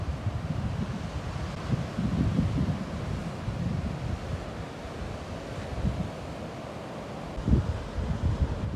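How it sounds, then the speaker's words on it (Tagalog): Strong ocean waves breaking on an Australian beach after a storm, a continuous low roar and wash with surges, mixed with wind buffeting the microphone. "Napakalakas ng alon."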